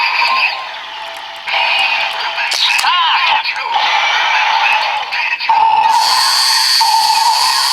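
A Maryu Brace DX Drago Timer toy plays a loud electronic zone sound effect, a chain of shifting synthesized tones, whooshes and a short swooping chime, close up with a voice audible alongside.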